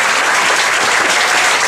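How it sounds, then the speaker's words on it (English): A stand-up comedy audience breaks into dense, steady clapping, loud and close, sustained for a brief stretch without cheers or talk. "I think they deserve a round of applause in advance"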